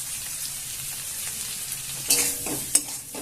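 Potatoes being stirred in a pan as they fry for a fish and gourd-leaf curry: a steady soft sizzle, with a few louder scraping stirs near the end and a sharp clack.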